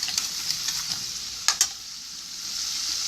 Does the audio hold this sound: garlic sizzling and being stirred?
yes